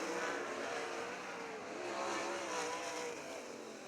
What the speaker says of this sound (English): They're side by side for the heat race off turn 4.